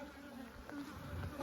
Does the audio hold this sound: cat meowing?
no